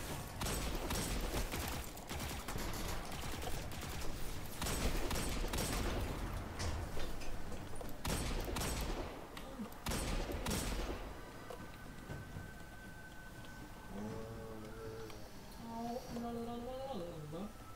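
Rapid gunfire from the video game Destiny 2, loud dense bursts of shots through the first half, then fading into softer mechanical and electronic game tones toward the end.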